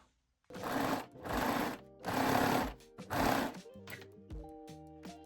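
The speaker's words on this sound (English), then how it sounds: "And now we will sew the layers together." A coverstitch sewing machine runs in four loud bursts, stitching elastic and fabric layers of a pair of panties together, then winds down to a quieter, tonal hum with short pauses.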